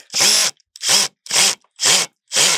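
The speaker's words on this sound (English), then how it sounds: "I use an impact driver." An impact driver drives screws into a Nautilus flood barrier: five short, loud, evenly spaced bursts of rattling hammering, close and with no talk.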